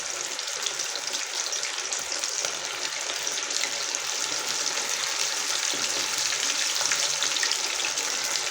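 Fish pieces fry in hot oil with a steady, dense sizzle and crackle that holds evenly throughout, close and fairly loud.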